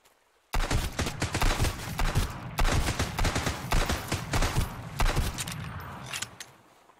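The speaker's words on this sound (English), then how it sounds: "I have so much pistol ammo, I literally can just spam this thing." Pistol in Sunkenland firing rapidly and repeatedly, a loud, close stream of sharp shots lasting several seconds before trailing off.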